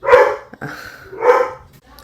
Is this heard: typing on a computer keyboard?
no